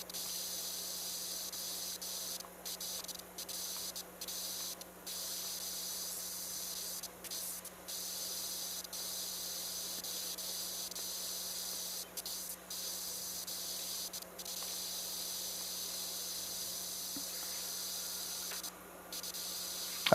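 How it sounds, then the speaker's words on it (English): Steady, close pressure-washer spray hisses almost without pause as rails are cleaned in PowerWash Simulator 2, with a few brief cutoffs and restarts of the jet. "We're just giving everything a quick spray the first time around on this part, at least on the rails."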